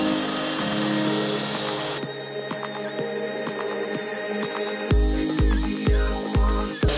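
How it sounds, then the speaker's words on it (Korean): Wall cutting saw working through a building wall during structural reinforcement of a café in Mullae-dong. A loud, close whine is broken by repeated sharp mechanical knocks and grinding bursts that grow heavier toward the end. "칸과 칸 사이를 연결해주는 작업은 벽면 커팅기를 사용해 작업을 해주었습니다."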